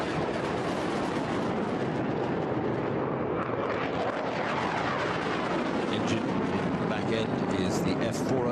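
HAL Tejas fighter with a General Electric F404 afterburning turbofan manoeuvring hard at the Bahrain air show, a loud continuous jet roar that shifts in pitch as it passes, with a commentator talking over it.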